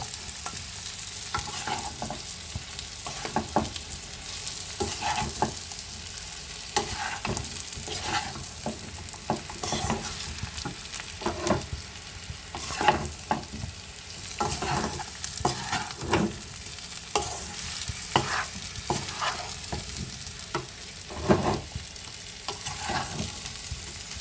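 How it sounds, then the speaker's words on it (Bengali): Katla fish with eggplant and potato stirred in a frying pan, a constant sizzle under frequent irregular spatula scrapes and clinks against the metal, close and steady, no voices. "এই যে মাছ, বেগুন আর আলুটা অ্যাড করে দিলাম, দিয়ে ভালোভাবে এর সাথে মিশিয়ে নেব"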